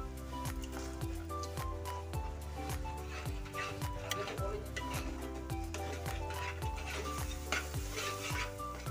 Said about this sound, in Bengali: মশলাগুলো যাতে পুড়ে না যায় তার জন্য সামান্য পরিমাণে জল দিয়ে দিচ্ছি।